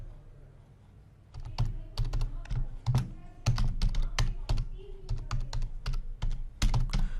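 Rapid clacking on a computer keyboard while an email address is typed in, bursts of close, crisp keystrokes with short pauses between runs, no voices.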